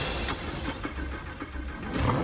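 A Lamborghini engine starting: a brief, fairly quiet churning and rising mechanical rumble that swells toward the end, heard alone without talk.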